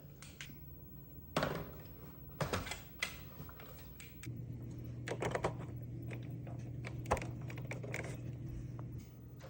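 Keys clatter on a Commodore 64 breadbin keyboard, several sharp clicks in uneven bursts early on, then fainter tapping over a steady electrical hum, close and moderately quiet.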